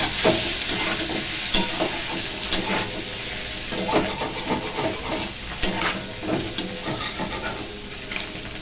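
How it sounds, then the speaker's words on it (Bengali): Eggs frying in oil in a pan, a steady close sizzle and hiss with scattered crackles and pops throughout, no talking. "তো ডিমটা ভেজে নিই"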